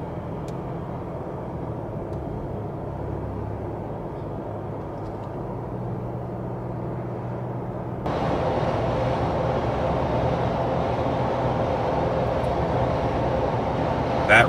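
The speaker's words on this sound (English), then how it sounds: "So we're just driving along at about 1500 RPM." Cabin of a 2021 Ford Bronco driving along at about 1500 RPM: a steady low engine and road drone with a constant hiss, rising slightly in level partway through, no talking.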